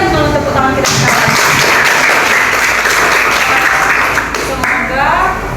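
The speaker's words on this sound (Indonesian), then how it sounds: "Kita berikan dulu tepuk tangan kita sekarang" Audience applause at a student civic-education class presentation, a dense sustained burst of many hands clapping that swells, holds for several seconds and then tapers off, with voices mixed in underneath.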